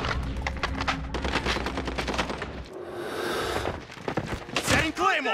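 Rapid bursts of automatic gunfire rattle in a Modern Warfare video game, with repeated sharp shots, a booming blast and thuds, while in-game voices shout over the combat.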